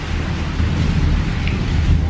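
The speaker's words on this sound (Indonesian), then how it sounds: "Hujan di luar." Steady rain pours outside with a low, rumbling wash that could be distant thunder, a dense continuous hiss with no voices over it.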